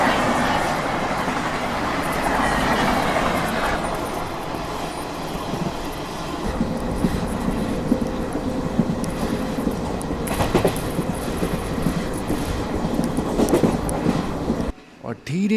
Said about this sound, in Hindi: ये मेरे ख्याल से train number 22151 Pune Kazipet superfast express है